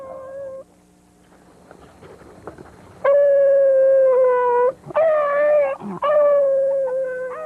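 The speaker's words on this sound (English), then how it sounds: "Every time he tongues, he's moving rabbit." A beagle hound gives tongue while trailing a rabbit, letting out several loud, sustained howling bays in close succession with short breaks between them, following a quieter stretch of faint outdoor sounds.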